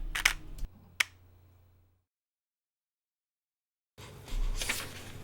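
A Nikon D850 camera shutter fires in two short, crisp clicks about a second apart, close and fairly quiet, followed by silence and then a muffled rustle.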